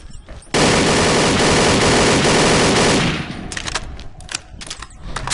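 Sustained rapid automatic gunfire from the video game XSHOT, a loud dense burst lasting a few seconds, then fading into scattered shorter shots and clatter.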